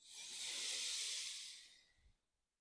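One long, soft, airy inhalation taken during a morning yoga flow, swelling and then fading to silence, close and alone with no talk.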